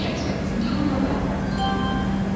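Train pulling out of New Jalpaiguri railway station on a New Shatabdi Express Vistadome run, a steady rumbling rail drone with faint metallic squeals and clinks, heard from inside the coach.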